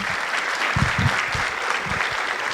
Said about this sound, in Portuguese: Uma salva de palmas para Adélio Pereira, Clóvis Bergamo Filho e Luiz Oliveira.